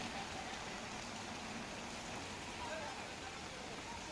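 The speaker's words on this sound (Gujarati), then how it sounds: "ધોધમાર વરસાદ વરસી રહ્યો છે" Heavy monsoon downpour pouring over low-lying streets and flooded shops in Pavijetpur, Chhota Udepur, a steady dense broadband wash of rain that holds constant throughout without pause.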